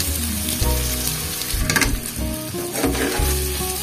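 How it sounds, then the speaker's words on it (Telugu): Chicken pieces dropped into fried masala in a pan for a Thums Up chicken dish, crackling and sizzling loudly up close with a few scraping stirs, no voices. "ఇప్పుడు ఫ్రై చేసిన దాంట్లో ముందుగా ప్రిపేర్ చేసుకున్న చికెన్ పీసెస్ని వేసుకుందాం"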